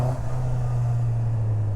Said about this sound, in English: it's got a snarl to the exhaust, a bit of a growl